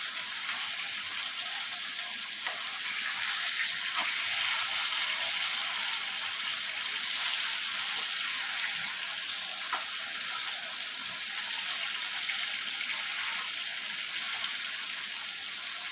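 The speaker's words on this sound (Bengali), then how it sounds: "মাছটা ভালো করে ভেজে নিই।" Fish frying in a pan of hot oil for a Bengali rohu fish curry, a steady, even sizzle and crackle that holds throughout with no talking.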